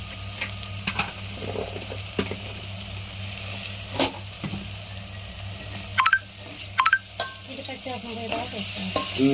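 Ginger garlic paste sizzles steadily in a hot pan while a spoon scrapes and stirs, with several louder clanks of utensil on metal over the constant frying hiss in a village kitchen.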